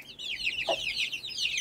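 Young Label Rouge and giant Polish breed chicks chirping continuously, a busy high-pitched peeping chorus close by with one short lower cluck in the middle, and no talking.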